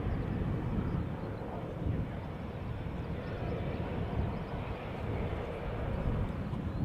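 Boeing 737-700 taxiing to the center runway at Schiphol Airport, a steady, distant low jet-engine rumble with a continuous broadband hum, faint talk in the background.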